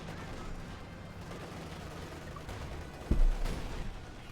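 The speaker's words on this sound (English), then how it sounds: "Mine went off there." A buried mine detonates in the World War II strategy game Company of Heroes 2, a sudden low blast about three seconds in that rises over a steady rumble of distant battle and fades away.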